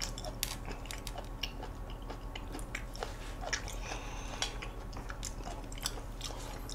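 Quiet, steady chewing and crunching of seafood such as squid, octopus, salmon, crab and sea cucumber during a mukbang, soft irregular clicks and bites close to the microphone with no talking.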